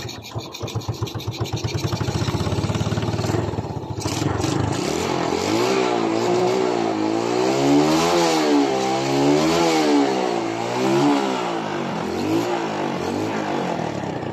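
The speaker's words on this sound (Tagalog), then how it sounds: "paanda rin natin para maklaro natin ang problema ng kanyang motor" A carburetor-type Yamaha Vega 115 motorcycle engine cranks and starts, then idles and revs up and down repeatedly in a close, loud rising-and-falling pattern.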